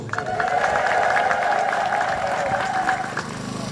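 Continuous applause from a church congregation at a Saint Mary feast-day service, steady and dense with faint high trilling ululation woven through, sustained and fading slightly near the end.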